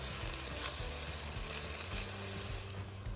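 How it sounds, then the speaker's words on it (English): Onion and garlic sautéing in vegetable oil inside a stock pot, giving a steady, close sizzle with soft crackling that holds at even loudness throughout, with no voices. "Then I'm going to add the onion and garlic and saute them until they're translucent."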